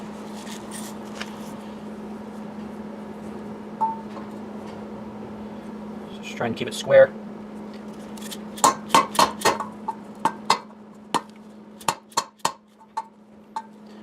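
Sharp metallic strikes ring out as rubber mallets and a hammer drive a Yamaha R6 sportbike wheel bearing, scattered at first and then landing in a quick run of hard hits. A brief spoken remark sits among them over a low steady hum.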